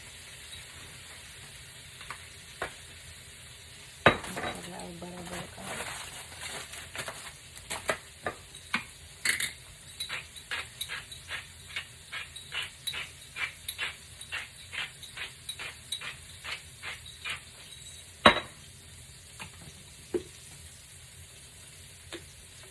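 Cabbage frying in a pan with onions hisses in a low steady sizzle, then a run of quick scraping stirs sets off sharp clicks and crackles, close up with no talk.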